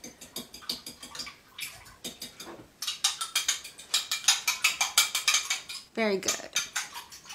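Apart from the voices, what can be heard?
fork mixing egg in a bowl for Irish soda bread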